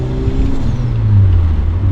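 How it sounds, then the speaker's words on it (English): A turbocharged Mazda Miata's engine drones loud and close with a steady low rumble and rising pitch, carrying a faint turbo whine over the top. "There's a lot of turbo noise."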